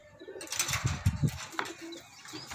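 Local Zeere Garre pigeons give low, throaty coos up close in a few short pulses, with a brief flutter of wings and some light background noise.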